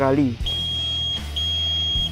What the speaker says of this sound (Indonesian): alat IoT E-Jemaah akan berbunyi bip panjang 2